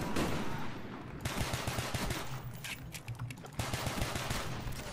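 Rapid bursts of gunfire from a Call of Duty Black Ops match on PC, dense clustered shots with a short lull midway before the firing picks up again, loud and continuous without talk.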